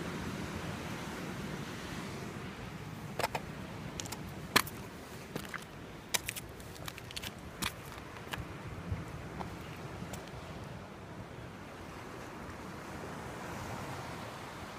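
Waves wash steadily over the tide pools at Laguna Beach, a soft continuous surf hiss with wind, broken by a scatter of faint clicks and knocks in the middle, with no voices.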